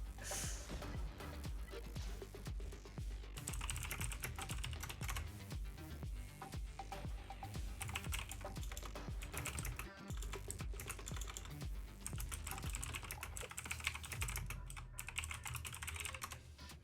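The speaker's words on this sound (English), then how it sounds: "Just typing in my chat really quick." Rapid, continuous clicking of a computer keyboard during a Kyber Grand Arena game session, close and busy, over a dense layer of game background sound.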